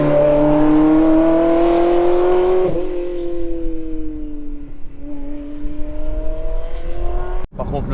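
Engine of a Ferrari 360 Spider with a manual gearbox revving high, then a gear change drops the pitch before it climbs again, loud and close with a rising tone.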